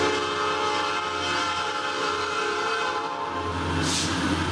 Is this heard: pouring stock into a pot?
no